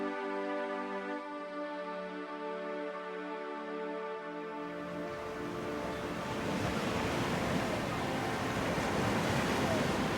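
Ocean surf along the Western Australian coast, a broad steady roar of breaking waves that swells louder midway and continues without voices.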